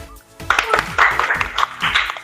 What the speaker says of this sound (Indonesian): Tepuk tangan buat Mbak Yariha